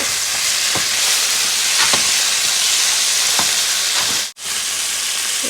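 Vegetables with a little tomato fry in a pan in a loud, steady sizzle that fills the whole clip, with occasional soft stirring knocks and a brief dip near the end.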